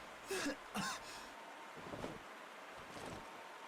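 Two short, harsh coughs up close, followed by quieter throaty rasps against a faint hiss of background noise, from the video game Tales of Xillia Remastered.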